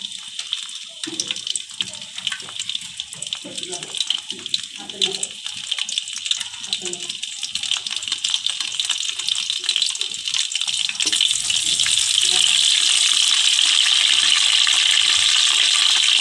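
Whole spices (bay leaf, cardamom, cloves, cinnamon) frying in hot mustard oil for Bengali katla fish kalia give a steady broadband sizzle that grows louder and denser toward the end, with a few faint voice sounds early on.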